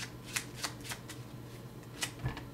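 A deck of playing cards being shuffled during a card-cheating demonstration, giving several soft riffling bursts close up and quiet, with brief pauses between them.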